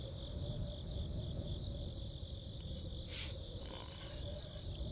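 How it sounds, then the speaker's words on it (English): Steady cricket chirping in the video game The Darkside Detective: A Fumble in the Dark fills the background, with a constant low rumble beneath and a brief brighter chirp near the end. "There's a chirping sound from over here. Crickets, maybe."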